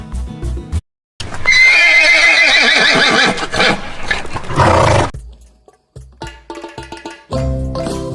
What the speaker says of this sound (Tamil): குதிரையின் சத்தம் என்ன? சத்தம் நெய் நெய்.